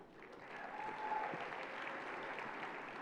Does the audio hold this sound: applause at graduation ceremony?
yes